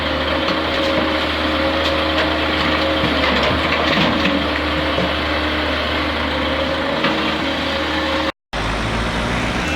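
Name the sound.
truck engine running while being loaded with demolition rubble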